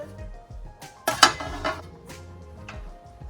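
A spoon scrapes and clinks around a cooking pot of greens, then the lid is set on with a sharp clank, followed by faint rattling and low background hum.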